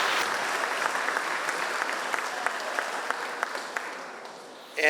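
An audience at a middle school ribbon cutting ceremony claps for recognized alumni, a full, sustained burst of applause with sharper individual claps standing out before it fades toward the end.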